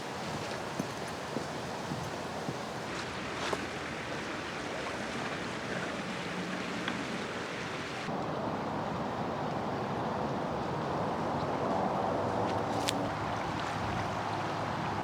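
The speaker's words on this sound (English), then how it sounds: "I am out here walking along the river" Outdoor riverside ambience while walking, a continuous wash of flowing water and breeze with scattered footstep-like taps and faint distant noises, no voices.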